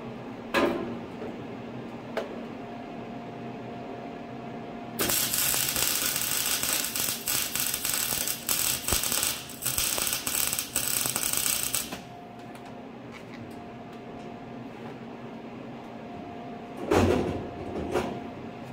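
An ESAB MIG welder lays a bead for about seven seconds, a loud, steady crackling hiss that stops abruptly, framed by quiet shop background and a brief clank near the end.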